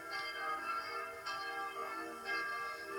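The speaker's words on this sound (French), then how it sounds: "De toute façon, les cloches, on les entend d'assez loin." Church bells ring in a French village ahead of a Lent mass, a sustained, resonant tolling with repeated strikes about once a second, heard from some distance and fairly faint, with no voices.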